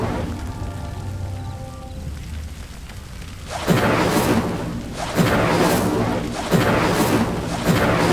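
The Incendio fire spell in Hogwarts Legacy is cast repeatedly, each cast giving a loud whooshing burst of flame, three in close succession over a steady background of game ambience.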